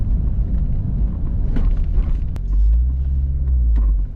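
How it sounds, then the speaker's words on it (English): A Chevrolet C5 Corvette V8 rumbles loud and close, a deep steady throb while the car holds one gear, swelling heavier and lower in the second half. "still a V8. you can hear it. Yeah, it's still a V8."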